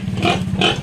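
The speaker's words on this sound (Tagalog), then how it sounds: "Kawawa ng baboy, nagugutom." A hungry pig grunts twice in quick succession, close by and fairly loud, with a low rough rumble beneath the squeals.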